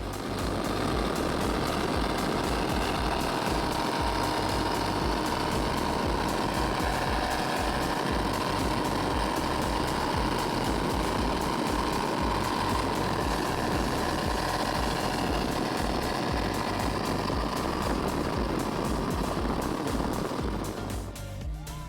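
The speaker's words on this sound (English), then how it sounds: "The boat is looking fantastic and running great." A racing powerboat engine roars loudly and steadily throughout on the Intracoastal Waterway at Orange Beach, with constant rushing wind and water noise, easing off only at the very end.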